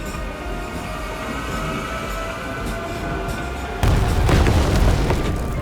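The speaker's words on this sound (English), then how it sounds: "I am the bullet train, I'm the fastest and the best" A bullet train rumbles past as a broad, steady roar that suddenly surges louder and booms partway through, loud and close with no talking.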